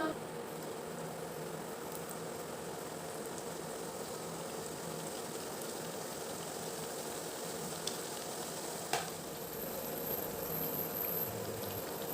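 Thattai dough frying in hot oil, a dense continuous bubbling sizzle that holds steady throughout, with a couple of faint clicks, close and unaccompanied by speech.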